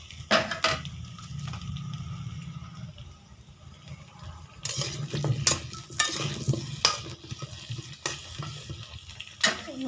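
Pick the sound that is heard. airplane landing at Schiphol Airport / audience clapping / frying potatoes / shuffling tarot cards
frying potatoes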